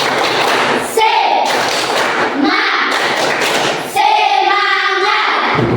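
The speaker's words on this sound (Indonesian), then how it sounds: "Tepuk semangat!" Classroom children performing a rhythmic clapping chant, loud and close, with bursts of quick claps and thumps alternating with shouted group voices.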